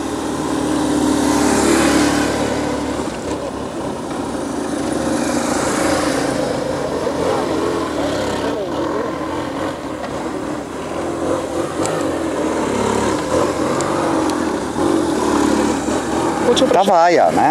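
Motorcycle engines revving and droning continuously as riders warm up themselves, their bikes and tyres on a training course, with someone talking over the engine noise throughout.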